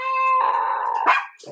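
A dog barks excitedly at close range, loud sustained yelping and whining barks running nearly continuously across the moment with a brief dip near the end.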